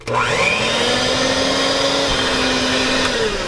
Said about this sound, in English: I'm using my hand mixer today because I know not all of you have a big old stand mixer